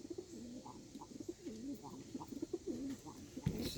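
Birmingham Roller pigeons coo softly in a loft, a steady series of low, rolling calls repeated every half second or so, fairly faint with a light background hum and a brief clatter near the end.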